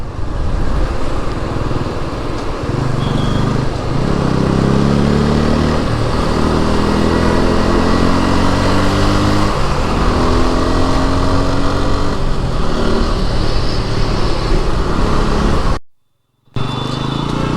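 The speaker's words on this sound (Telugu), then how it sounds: "ఇంకా ఇక్కడ నుంచి ఫుల్ ట్రాఫిక్ అబ్బా." Heavy road traffic near LB Nagar in Hyderabad surrounds a moving motorcycle, its engine droning and shifting pitch continuously under steady wind rush and passing vehicle noise.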